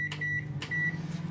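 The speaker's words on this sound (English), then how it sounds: "with this milk, I'm going to pop this in the microwave" A microwave oven warming milk for lasagne gives a couple of sharp beeps over a steady low hum, close by and with no talking.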